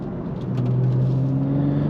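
A 2022 BMW M340i xDrive sedan pulls hard with a steady, loud engine drone whose pitch climbs gradually under acceleration, heard from inside the car without talk.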